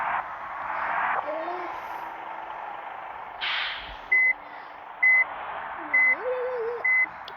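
Bus reversing beeps in the Bus Simulator Indonesia game: four evenly spaced short electronic tones over a low engine hum, with a brief air hiss before them.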